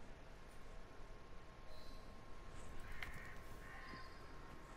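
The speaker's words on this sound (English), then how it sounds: "I'm following crows." Crows caw faintly in the street ambience of Assassin's Creed Syndicate, a few scattered distant calls over a quiet wash of game background noise.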